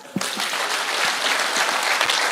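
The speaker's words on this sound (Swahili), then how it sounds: "So mnipigie makofi" Audience applause at a public security forum in Kisumu, Kenya: a dense, steady wash of clapping from a crowd that starts abruptly and holds at full strength throughout, with no talk over it.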